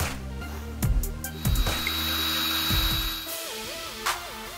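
A drill bores a hole through a homemade rear camshaft holder part for a 2007 Honda Ridgeline 3.5, its motor whining close by in several bursts with shifting pitch as the bit cuts.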